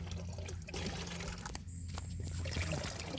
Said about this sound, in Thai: ผสมน้ำเปล่าใส่น้ำกด